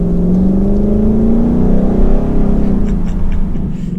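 A new Ford Mustang GT coupe accelerates in a loud, close drone from inside the car, its engine pitch climbing steadily through a gear before easing off slightly.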